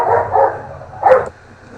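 Dogs barking loudly and close, in two bursts of barks separated by a short pause, with the last half second quieter.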